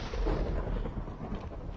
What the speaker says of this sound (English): Since it's a thunderstorm.